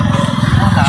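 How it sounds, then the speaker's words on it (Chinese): A motorcycle pulling up close by, its engine putting out a fast, even low throb that stays loud for the whole moment. "来摩托车了"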